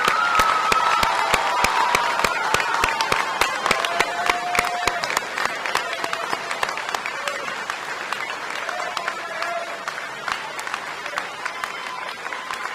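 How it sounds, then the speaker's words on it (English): Audience applause at a Townsend Harris graduation ceremony in 2023, a steady dense clapping from a large crowd that holds throughout, with scattered individual claps standing out. "Will the recipients of the Townsend Harris Honor Certificate please rise as we honor you with a round"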